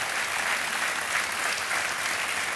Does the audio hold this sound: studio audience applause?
yes